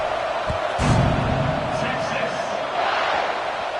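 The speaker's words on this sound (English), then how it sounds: "this crowd is buzzing after that last score" A stadium crowd in College Football 26 buzzes as a loud, continuous roar, with a sharp thump early on and play-by-play commentary talking over it.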